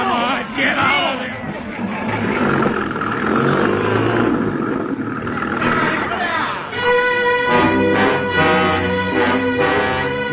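A truck engine effect from a 1950s radio drama of War of the Worlds: shouting voices dominate at first, then a droning motor rises and holds steady as the vehicle pulls away.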